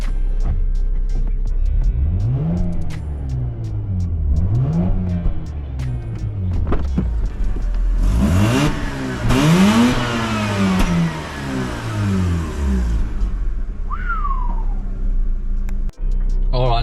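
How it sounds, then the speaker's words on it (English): A Mazda RX-8 rotary engine, just brought out of limp mode, revs up repeatedly in close, loud rising and falling sweeps, with one higher sustained rev near the middle, idling between blips. "Let's see how it revs up now."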